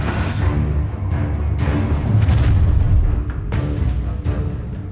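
Spell blasts from Hogwarts Legacy: heavy whooshing bursts and booms land in quick succession over a loud, continuous cinematic rumble, close and forceful.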